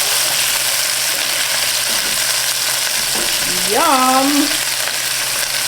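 Crispy dill pickle chicken bites keep frying in a pan after being flipped, a loud, steady close-up sizzle with a few soft clinks, and a voice briefly speaks over it near the end.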